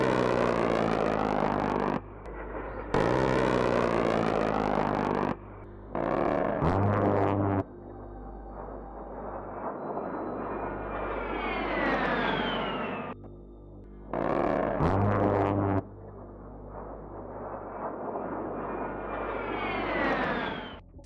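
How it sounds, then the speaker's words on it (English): An A-10 Warthog's cannon fire tears out in long, loud ripping bursts, each followed by deep rumbling and a rising aircraft engine roar that swells and fades in the distance; there is no speech. "This creates a massive ripping sound in the sky, and the aircraft itself makes a lot of rumbling noises."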